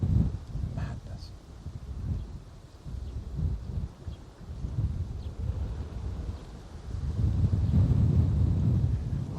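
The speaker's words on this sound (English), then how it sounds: "you can just see what the wind is doing here." Strong wind buffets the microphone outdoors at Bristol Airport, low rumbling gusts that surge and build toward the end, with a voice speaking over it.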